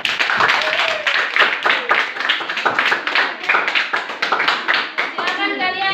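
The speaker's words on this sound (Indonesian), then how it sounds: "Tepuk tangan untuk Master." Students in a classroom clap together in a lively, uneven burst of hand claps, with voices chattering over the clapping throughout and a brief sung or called-out tone near the end.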